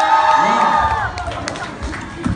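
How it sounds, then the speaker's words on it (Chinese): A concert crowd at a live show cheers and claps in a short burst of mixed shouts and applause; a voice is heard over the noise at the start. "掌声送给你们自己，来一遍掌声"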